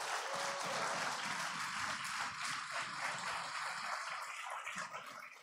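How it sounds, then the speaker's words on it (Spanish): A church congregation claps together for the Lord, a dense, sustained wash of applause that stays fairly even and fades slightly toward the end, heard from a distance with no voices standing out. "dale un fuerte aplauso al Señor"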